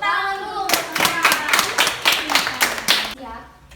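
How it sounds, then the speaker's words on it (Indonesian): Schoolchildren at an elementary school health session clap their hands together in a quick burst of about ten sharp, rhythmic claps, with voices speaking just before and after. "Oke, tepuk tangan dulu."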